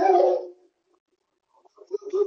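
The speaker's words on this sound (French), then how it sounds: "Il aboie de nombreuses fois, mais pas longtemps." A dog barking at someone passing in the street: one loud close bark, a pause, then a few shorter yips and whimpers, indoors with no talking.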